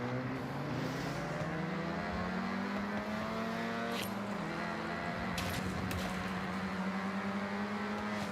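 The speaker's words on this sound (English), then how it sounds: "all the cars sound very good and very different" Several racing car engines in Forza Horizon 6 roar and rev with shifting pitch, gears changing as they accelerate, a continuous moderately loud engine blend with no talking.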